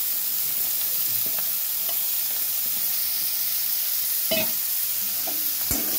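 Raw mango pieces and green chillies sizzle in a pan for a Bengali raw mango pickle, producing a steady close hiss with a few clinks and scrapes of stirring.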